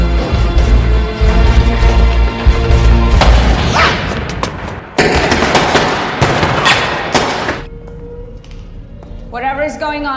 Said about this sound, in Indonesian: adegan baku tembak pun terjadi